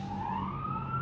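An emergency vehicle's siren wails on a busy city shopping street, one loud steady rising tone over traffic rumble.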